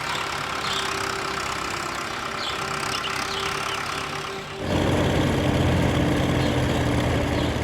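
Farm tractor engine running steadily in an Indian village, a continuous low mechanical drone that grows louder and heavier halfway through as the load or throttle changes.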